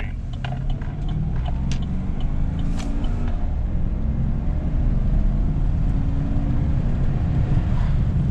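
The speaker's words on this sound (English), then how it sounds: "No heat running, and you can listen to the transmission" A 2018 Chevrolet Silverado pickup driving around the block, heard from inside the cab as a loud, steady engine and road drone that rises slightly toward the end. Distinct gear shifts are hard to pick out.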